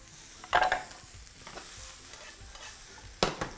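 Diced eggplant fries in olive oil in a pan alongside bell pepper, a soft continuous sizzle broken by a few louder scraping stirs near the start and end.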